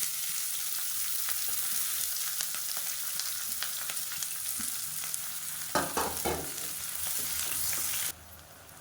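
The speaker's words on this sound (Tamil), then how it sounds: "இந்த பிரியாணிக்கு வெங்காயம் வந்து ரொம்ப அப்படியே ப்ரௌன் கலரில் வதங்கணும்னு அவசியம் இல்லை லேசாக வதங்கினாலே போதும்" Onion sautéing in oil in a pan for biryani, a steady close sizzle with scattered crackles and a brief burst of stirring scrapes near the end before it drops quieter.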